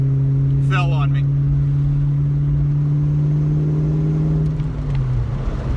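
1991 Ford Mustang GT with a 5-speed cruising on the highway at low RPM, a steady loud engine hum with road noise from inside the car, the drone dipping briefly near the end.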